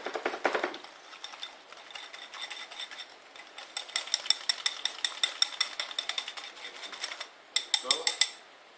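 A whisk beats a mixture with chopped cilantro in a bowl, making rapid, rhythmic metallic clinks and scrapes that come in quick bursts, close and moderately quiet.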